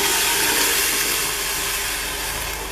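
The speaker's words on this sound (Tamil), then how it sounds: "தண்ணி நல்லா கொதிக்கணும்." Steady broadband hiss and rush of about six cups of water coming to the boil in a pot close by, continuous with no voices.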